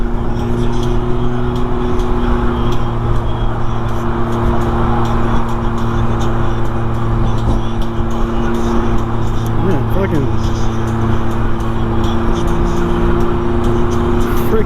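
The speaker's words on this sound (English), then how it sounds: "Freaking traffic is going so fucking slow today." Slow-moving road traffic heard from within, a steady low engine drone and rumble with continuous broadband road noise throughout, no clear passing vehicles standing out.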